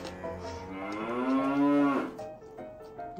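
Cow mooing, a single long drawn-out moo that rises and swells in the middle before tapering off, fairly close and clear with no voices.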